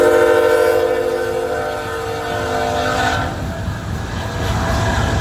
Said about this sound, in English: Eastbound train,